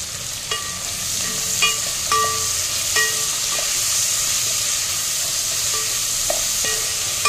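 Ingredients for Bengali khichuri fry in a pan with a steady bright sizzle, broken by scattered clinks and scrapes of a utensil stirring against the metal, close and without talk.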